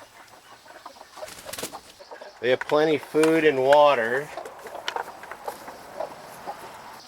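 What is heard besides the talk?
chickens clucking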